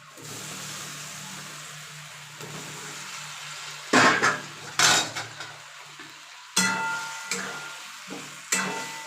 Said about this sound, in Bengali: দিয়ে এবার একসঙ্গে একটু কষাবো।